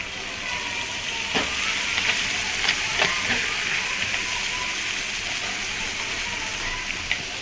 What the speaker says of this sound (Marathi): आता टाकते भाजी